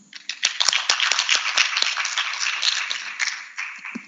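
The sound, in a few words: audience clapping at the end of a conference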